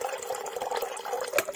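Water is poured into a cooking pot in a home kitchen while preparing dal and rice, giving a close, splashy, bubbling stream that runs continuously, with a brighter splash near the end.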